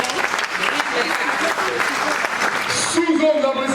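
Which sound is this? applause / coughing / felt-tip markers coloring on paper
applause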